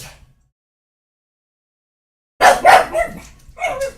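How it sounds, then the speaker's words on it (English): A wild, excitable pug barks indoors, one brief faint yap at the start and then a loud, close burst of several barks after a silent stretch. "He's a cute dog. He's just kind of wild and crazy."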